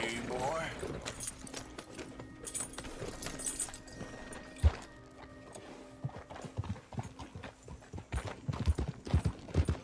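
Horse hooves clip-clop and gallop in Red Dead Redemption 2 as several horses arrive together, a steady rhythmic thudding with a brief whinny, heard under characters talking.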